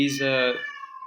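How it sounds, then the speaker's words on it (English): A house cat gives one clear, drawn-out meow, close and loud, rising and then falling away over about a second, heard alone. "Sorry, that's my cat."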